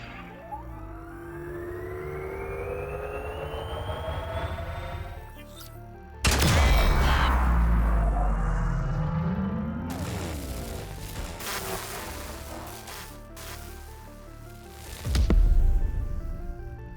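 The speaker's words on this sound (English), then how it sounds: "we did see an explosion over by the oak tree" Game audio from Grounded, with a loud explosion booming in suddenly and a second heavy blast later, set among sweeping electronic tones and rumbling effects that fade between the blasts.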